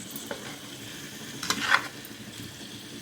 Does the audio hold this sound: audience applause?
no